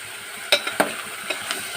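Ivy gourd curry is stirred in a frying pan, with a few distinct scraping clinks of the spoon over a low, steady sizzle.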